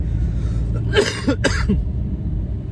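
Two quick, harsh coughs from a person nearby over a low, steady background rumble.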